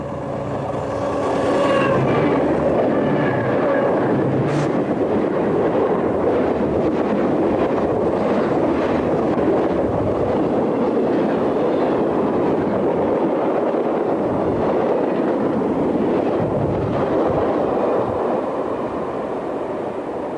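A high-speed southbound Southern diesel train rushes past at Chatham, Virginia, a loud, sustained roar of engines and rolling cars with heavy wind buffeting the microphone, swelling early and holding steady throughout.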